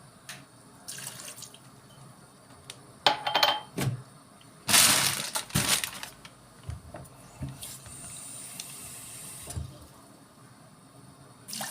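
Water poured into a pot of Turkish dry bean stew (kuru fasulye) seasoned with tomato sauce, paste and basil, heard as a few separate splashy pours and trickles with quieter gaps between.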